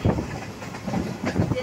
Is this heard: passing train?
yes